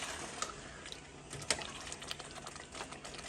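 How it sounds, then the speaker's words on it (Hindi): Water is poured into an aloo gosht mutton and potato curry in a pot, a faint continuous splashing hiss with a few small clinks, quiet and close. "मैं पानी डाल रही हूँ"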